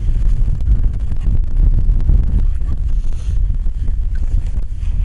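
Gusty outdoor wind buffets the microphone in steady low rumbling blasts that rise and fall over five seconds, with no voices.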